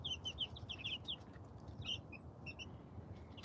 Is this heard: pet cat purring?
no